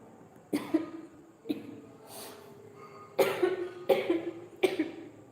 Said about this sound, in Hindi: मम्मी ने सब्जी छौंक दी है बहुत भयंकर तरीके से, खांसी आ रही है